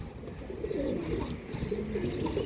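Pigeons of a prized Andhra Pradesh breed, kept for sale, give low, soft repeated coos against a quiet background.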